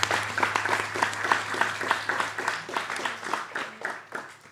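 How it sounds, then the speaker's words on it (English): An audience at an Easwaramma Day celebration applauds after a children's performance, with moderately loud, steady clapping from a modest crowd that tapers off near the end. "another round of applause to all the gurus and the parents who worked hard"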